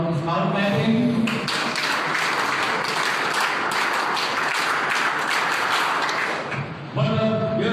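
Audience clapping for a guest at a school English week closing program, a steady dense burst of applause lasting several seconds, rising abruptly and fading near the end, with brief speech at either edge.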